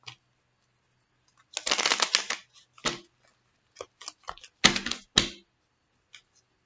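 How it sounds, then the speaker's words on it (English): Cards riffle and snap together in several short bursts separated by quiet pauses, crisp and close. "these cards are hard to shuffle"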